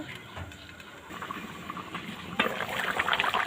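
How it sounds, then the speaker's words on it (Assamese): Local chicken curry simmers in a covered pot, giving a soft continuous bubbling hiss that grows louder and rougher toward the end, close and steady with no voices. "আঞ্জাখন ভালদৰে উতলিব।"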